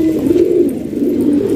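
A fighting pigeon coos in a low, soft, continuous warble, close by, with nothing else heard over it.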